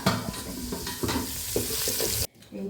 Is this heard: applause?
no